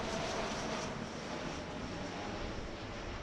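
Gulfstream business jet on approach to land at Philadelphia airport, a steady loud broadband engine roar that holds constant throughout with no talk over it.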